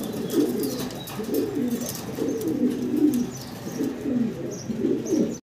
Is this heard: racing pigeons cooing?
yes